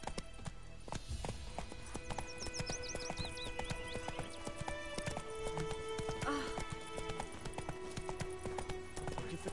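Roach, a horse in The Witcher video game, gallops with steady clip-clop hoofbeats and an occasional whinny, laid over game music and ambient effects, while a voice speaks briefly.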